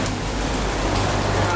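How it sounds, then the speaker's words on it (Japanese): Steady tropical rain pours in Koror, Palau, a continuous dense hiss of drops on surfaces, moderately loud and unbroken for the short stretch. "まあでもこれでもまだそんなにザーッと降ってる感じはないですよね。"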